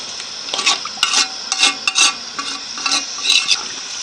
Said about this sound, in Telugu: ఇప్పుడు ఒకసారి మళ్ళీ కలుపుకొని మొత్తం దగ్గర పడేదాకానైతే ఉంచుకోవాలి దీన్ని